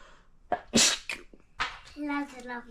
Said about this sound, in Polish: Kichnę.